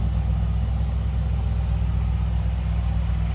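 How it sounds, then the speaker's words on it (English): A 1957 Ford Fairlane 500 Skyliner running with a stock exhaust, giving a steady low idle and a slight rumble, even and close with no voices. "Nice sounding car. No crazy exhaust, anything like that."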